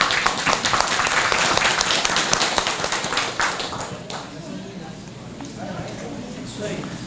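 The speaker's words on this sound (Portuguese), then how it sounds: "Agradecer com uma salva de palmas aí." A crowd at a lecture claps and applauds in a dense, steady patter that gradually thins out, with a voice speaking faintly beneath it.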